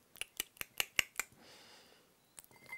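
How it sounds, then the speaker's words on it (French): Paper cut with a pair of scissors for a magic prop, six quick crisp snips in even rhythm close by, a brief rustle, then a couple more snips. "vous allez découper le tout avec une paire de ciseaux"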